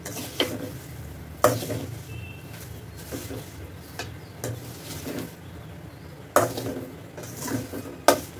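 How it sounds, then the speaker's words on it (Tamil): Broken vermicelli fries and is stirred with a spoon in a pan for sheer khurma, a soft steady sizzle punctuated by sharp irregular metal scrapes and clinks, heard close with no talking. "இப்போ வந்து சேமியா வந்து ஃப்ரை பண்ணிக்கலாம்."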